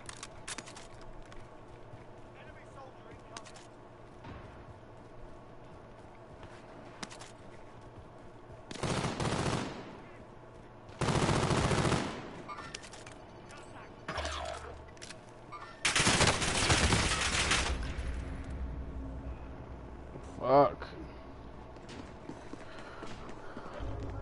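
Bursts of automatic gunfire from a Call of Duty match, several loud volleys of varying length separated by quieter stretches of game ambience, with footsteps and scattered smaller shots between them.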